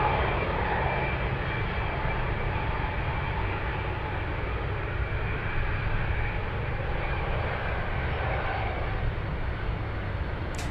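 A Condor passenger jet arriving from Frankfurt at Anchorage airport gives a steady, broad engine roar that holds at an even level throughout, heard from a distance with no voices.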